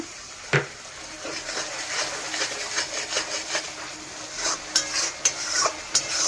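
A splash of water meets frying masala in oil in a pan for a fish curry, giving a steady hiss and crackle with soft wooden stirring scrapes and a few sharper knocks near the end.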